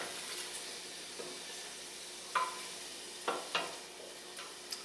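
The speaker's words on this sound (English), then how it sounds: "This is called sauteing." Shrimp sauteing in olive oil in a home kitchen for a pesto dish, a steady soft sizzle with a few brief clicks and scrapes of stirring, quiet and close with no talking.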